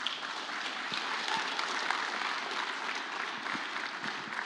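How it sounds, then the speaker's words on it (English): At a startup investment summit, an audience greets the next presenter with steady, even applause that holds for the full few seconds. "Big round of applause, please."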